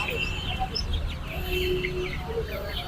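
Sonali hybrid chickens clucking at a busy Bangladeshi poultry market, scattered calls and chirps from several birds over steady crowd noise and nearby voices.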